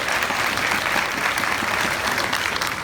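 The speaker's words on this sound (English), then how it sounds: "applause" Conference audience applauding, a dense, steady clapping from a sizable crowd in a large room, loud and close, holding evenly throughout.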